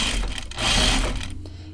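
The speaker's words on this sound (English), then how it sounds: "Because I want to sew it my usual way." A sewing machine runs in steady bursts while stitching a shirt cuff to a sleeve on a casual button-up, a close, continuous mechanical whir that eases off near the end.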